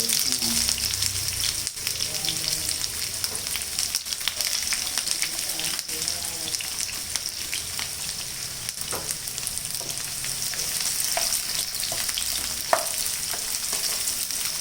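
Whole spices (cloves, cardamom, shahi jeera and cinnamon) dropped into hot oil for mutton keema, giving a dense, continuous crackling sizzle that runs evenly throughout with a few brief stirring clicks.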